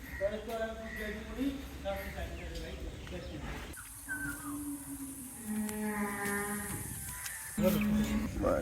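Large, strong bulls in the bull shed of a dairy farm near Dhaka, lowing in drawn-out moos at moderate distance, with a person talking over and between the calls.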